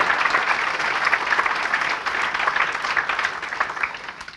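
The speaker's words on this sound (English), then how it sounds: "Applause." Conference audience applauding after a security talk, dense steady clapping from a sizable room, fairly loud and continuous throughout with no voices on top.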